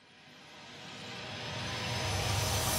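A reversed synthesizer drop made in Ableton with beat repeat and a fade, swelling steadily louder across the clip into a dense, noisy whoosh with no talking.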